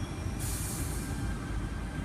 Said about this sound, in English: This train today is a Cronulla service